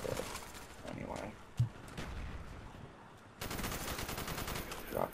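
Gunfire crackles in Call of Duty Black Ops during a Domination match on the Jungle map, with sharp, fairly faint shots and bursts at uneven intervals over a busy background of game noise.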